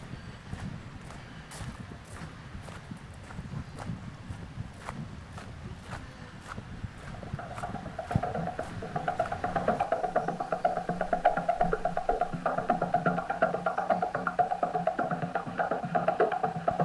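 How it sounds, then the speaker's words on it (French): A sound installation in a garden playing back recorded sound of trees, a steady textured wash with scattered crackling clicks that grows into a denser, tonal hum in its second half, heard outdoors without talk. "Ce son, c'est la captation du son réel des arbres entre eux"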